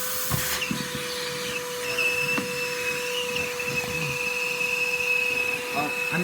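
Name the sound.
Lego vacuum engine running, idle being adjusted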